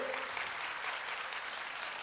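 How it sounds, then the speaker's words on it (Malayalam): Faint, distant applause from a crowd at a company foundation day celebration, a soft continuous patter of clapping with no voices on top. "എന്നാൽ നല്ലൊരു കൈയടി"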